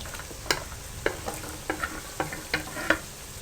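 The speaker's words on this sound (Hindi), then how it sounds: "अब इसी गर्म ऑयल में आपने आलू फ्राई कर लेने हैं" Potatoes fry in hot oil for aloo karela, giving a soft continuous sizzle broken by sharp, irregular clinks and scrapes of a stirring spoon against the pan. Close and moderately loud, no voices.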